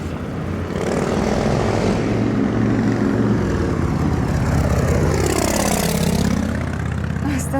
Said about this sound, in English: Is it maybe the same helicopter?